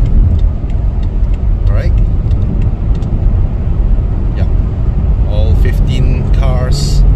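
A steady stream of BMW cars, both combustion and electric, rolls along a road during a group drive, giving a loud continuous engine and tyre roar close by while people talk over it.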